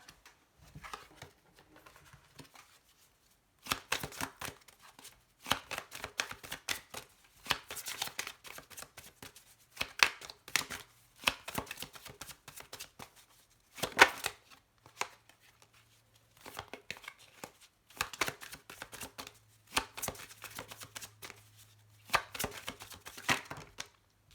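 Tarot cards are shuffled by hand in quick, papery riffling bursts with short pauses, close and fairly quiet, with a faint low hum in the background.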